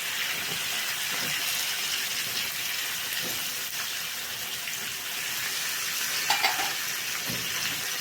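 Pieces of a medium-sized chicken fry in hot oil with a continuous, even crackling sizzle, moderately loud and close, with a couple of faint clinks near the end.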